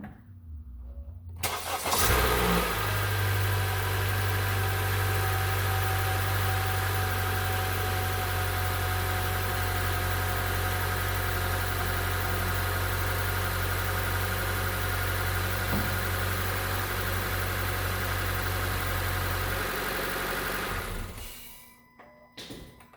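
A 2016 Honda Civic's 2-liter four-cylinder engine cranks, catches and runs at a smooth, steady idle after a spark plug replacement, then shuts off after about twenty seconds.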